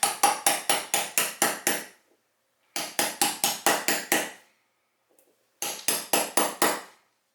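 Metal socket hammered against a bearing to drive it into a vintage Honda Z50 K0 wheel hub, heard as three bursts of sharp, evenly spaced blows, seven or eight strikes each, close and loud with short pauses between.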